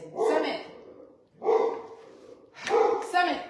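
A dog barking outside, three loud, fairly close bursts of barking about a second apart, each with a breathy, rough edge, alone with no talk.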